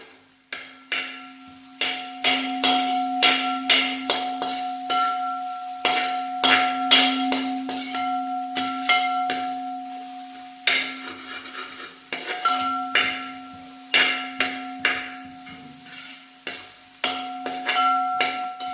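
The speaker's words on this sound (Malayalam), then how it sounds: "ഇനി നമ്മുടെ മെയിൻ ഇൻഗ്രീഡിയൻ്റായ ഉള്ളി ചേർത്ത് കൊടുത്ത് നല്ലോണം വഴറ്റിയെടുക്കുക." Onions sautéed in a pan for a homestyle Kerala beef curry, a spatula scraping and stirring in quick repeated strokes over a soft sizzle and a steady background hum.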